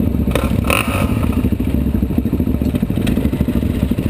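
A dual-sport motorcycle engine runs loud and steady, a continuous low rumble with some clatter and rattle throughout, close by.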